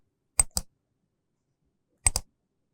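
Two quick double clicks of a computer mouse, close and crisp, with a long silent gap between the pairs and no talk.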